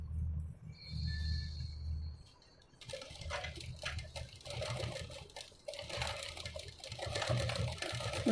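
Sewing machine stitching along the edge of a boat-neck blouse, a low motor whir running in steady bursts with short pauses between stitching runs, close and fairly quiet.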